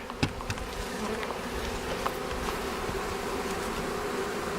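Honeybees hum steadily around a newly installed hive outdoors, a dense continuous buzz close by with occasional individual bees passing, no voices.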